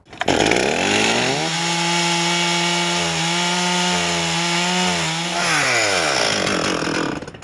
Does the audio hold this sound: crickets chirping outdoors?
no